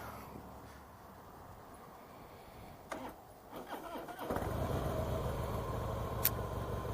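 A Harley CVO ProStreet Breakout motorcycle that has sat unused cranks hesitantly for a few seconds, then catches and settles into a loud, steady idle rumble.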